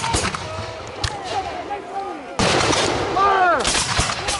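Musket volley firing at a Revolutionary War reenactment battle outdoors, with sharp loud reports booming and echoing, the biggest one midway, amid shouting and crowd noise.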